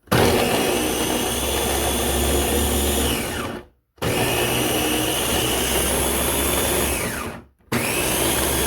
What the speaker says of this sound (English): my goal is just to blend twice instead of several separate times